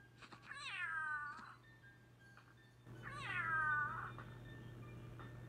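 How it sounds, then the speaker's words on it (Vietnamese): Two drawn-out cartoonish meows from a cat in a mobile video game, each rising then falling, separated by a short pause over a steady low electronic hum with no talking. "con mèo có đặc điểm là nó sẽ lắc lư và nó sẽ cứ quẹt cái bao diêm đấy"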